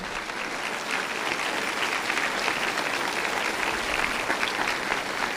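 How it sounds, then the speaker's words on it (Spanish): Steady, dense applause from a church congregation fills the whole stretch, loud and even with no pause and no talking over it. "Dale un aplauso a Cristo Jesús."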